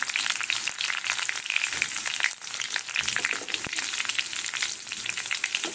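Garlic fries in hot oil for a poppy seed and prawn dish, a loud, continuous close sizzle with faint stirring scrapes throughout.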